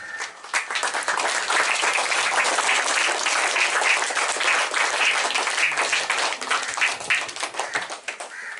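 An audience claps steadily at a student award ceremony, a dense, sustained round of applause lasting several seconds at fairly close range.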